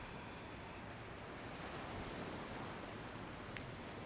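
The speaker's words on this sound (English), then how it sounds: "Listening to the sounds of the ocean." Ocean waves wash steadily onto a Puerto Rico shore in a continuous, even roar of surf with a light airy hiss, holding a constant level for several seconds with no voices.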